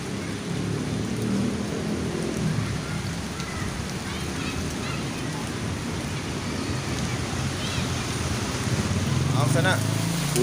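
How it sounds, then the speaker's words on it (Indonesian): Heavy rain pours steadily while fishing by a ditch, a dense continuous hiss and patter that stays loud throughout with no letup. "Sana hujan deras ini."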